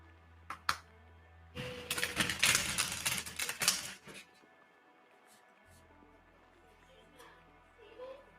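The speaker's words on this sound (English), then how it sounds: "I'm going to go ahead and shuffle the cards." Tarot cards being shuffled by hand, a dense burst of crisp riffling and flicking clicks lasting a couple of seconds, close and fairly loud, with a few sharp taps before and soft handling noises after in a quiet room.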